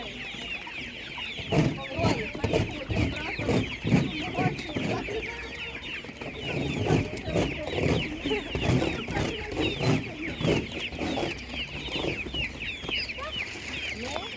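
Many chickens clucking and squawking together at a busy, noisy animal market, with overlapping calls at close range and some voices murmuring underneath.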